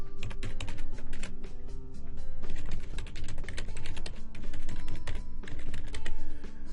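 Login credentials typed on a computer keyboard, a dense run of quick clicking keystrokes in bursts with brief pauses, close and clear.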